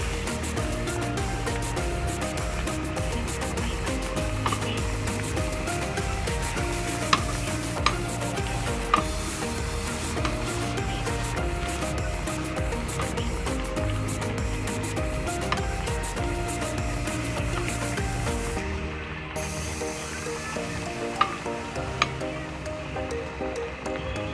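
Vegetables simmering in coconut milk, a continuous close bubbling and sizzle with occasional stirring scrapes, steady throughout.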